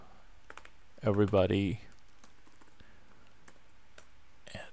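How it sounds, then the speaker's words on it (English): Light, sparse keyboard taps are scattered quietly through a lesson on the Python prompt, with a person speaking briefly near the start. "you can just go in there and type in different commands"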